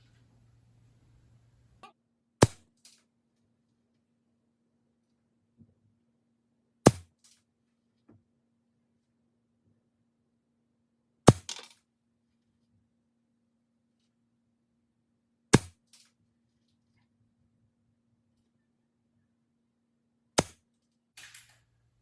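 Benjamin Discovery air rifle firing Benjamin Discovery pellets: five sharp, loud cracks spaced about four to five seconds apart, each ending quickly, with quiet gaps and a faint steady hum between shots.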